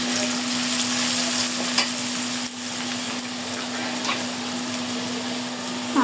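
Turmeric powder and spices frying in hot oil, a loud, dense, steady hiss with a constant low hum underneath and a brief dip midway, close up with no talking.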